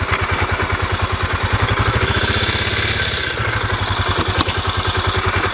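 Overloaded sand truck engine straining and labouring at a steady, loud, close rumble, its low throb pulsing rapidly throughout with a brief pitch shift midway, no talking over it.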